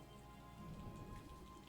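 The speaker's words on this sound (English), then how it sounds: "I want to get out of this rain because apparently it causes incredible lag." Steady in-game rain from an itch.io video game, a dense, even hiss of drops on surfaces running throughout, close and constant with no voices.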